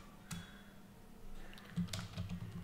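Typing on a computer keyboard while entering C code in a programming lesson, with a few soft scattered key clicks and a slightly louder cluster of keystrokes toward the end, faint and close with no talking.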